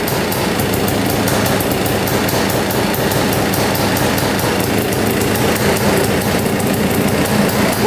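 A 1960s snowmobile engine runs steadily after being repaired, a continuous loud buzzing drone with a rapid, rattling rhythmic pulse throughout and no talking.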